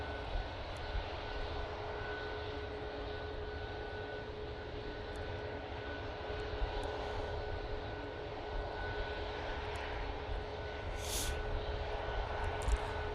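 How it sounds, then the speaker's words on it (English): A Finnair Airbus A320 in special livery arrives at a windy Manchester Airport, its jet engines a steady distant roar with wind noise, constant and without voices. "Next in will be the Finnair, using a 320 today in the Bringing Us Together special livery."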